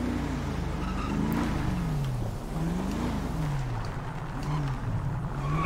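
A car engine in GTA V roleplay racing against police, a steady droning motor whose pitch rises and falls with repeated revs and gear changes, with a voice talking faintly underneath.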